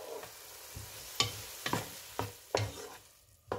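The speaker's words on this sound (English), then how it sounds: "Now stir fry these for a few seconds. Add 3 eggs. Let the eggs scramble on the side first" Eggs with seasonings stir-fried in a pan, a soft sizzle under a series of sharp, irregular spatula scrapes and taps, close and fairly quiet, with no talking.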